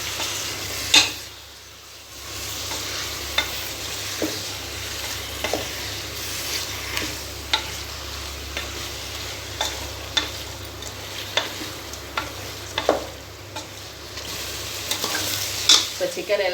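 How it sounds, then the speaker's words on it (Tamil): Chicken biryani masala is stirred in a pressure cooker pot, with a soft continuous sizzle and repeated spoon scrapes and taps at an irregular pace, close up, with no voices. "இது எல்லாத்தையும் நம்ம நல்லா கிண்டி கொடுத்துக்கலாம்."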